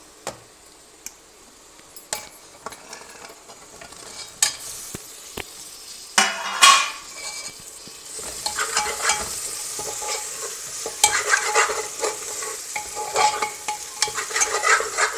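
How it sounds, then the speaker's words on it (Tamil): Tomatoes sauté in a pan for a vegan protein biryani, with sharp spoon-on-pan scrapes and clicks over a steady sizzle that grows busier and louder toward the end. "தக்காளி பாதி வதங்கிடுச்சு"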